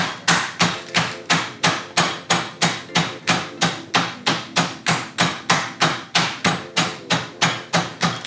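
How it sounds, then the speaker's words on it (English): Steady, even blows pounding a chicken breast flat into a thin patty, around two to three heavy thuds per second, close and loud, with no talk over them. "So I'm flattening it out into like this kind of large patty"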